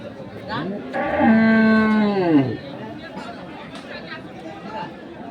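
A cow with its calf lets out one long, loud moo close by, over the murmur of people chatting at a busy cattle market in Dinajpur.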